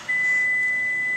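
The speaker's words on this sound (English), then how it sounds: "that long beep means that either the door is ajar or the keys are in the vehicle" A 2010 Toyota Prius sounds its smart-key warning with the key left inside the car: one long, steady, high electronic beep sustained for over a second, clear and close.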